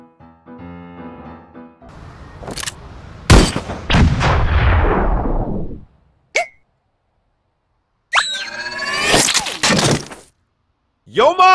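Loud gunshot sound effects with sharp cracks and long booming decays, separated by silent gaps, followed by shattering bursts, in a comedy skit.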